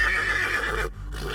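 A horse neighs loudly in a long whinny with hoof clip-clops beneath, a sound effect in an eerie night setting, followed by a brief gap and continuing noise.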